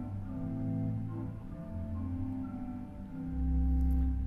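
A soft, sustained passage on the gedeckt stop alone, from the chancel pipe organ at National City Christian Church, Washington DC, with mellow, hollow low notes shifting between chords and swelling slightly at the end.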